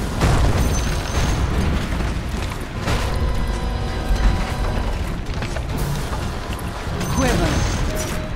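Explosive bursts and crumbling debris as a tower is destroyed in a fantasy battle game, loud and dense over constant battle noise, with a voice talking over it.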